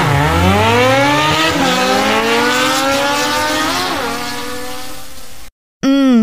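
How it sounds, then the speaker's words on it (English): Motorcycle engine revving in a children's phonics lesson, a loud rising and falling whine sweeping up through several gear-like climbs, then a brief cut and a short final rev. "Motorcycle."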